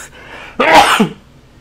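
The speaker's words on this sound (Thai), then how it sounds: "จะจามพี่แล้ว" A man sneezes once, loud and close, a sudden sharp burst that quickly dies away.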